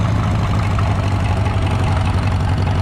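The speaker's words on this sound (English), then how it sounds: "Up next is a John Deere Model H." A John Deere Model H two-cylinder antique tractor engine runs steadily at a tractor show, a loud, continuous low throbbing idle with no talk over it.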